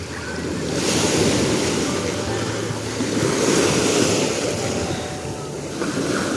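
Mediterranean Sea waves wash onto the shore at Erdemli, Mersin, a broad, steady surf roar swelling and easing in slow surges, mixed with wind buffeting the microphone.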